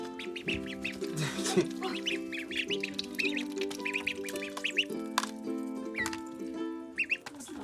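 Young domestic ducklings quack and peep repeatedly at close range, with a steady stream of overlapping calls and a faint tonal hum underneath.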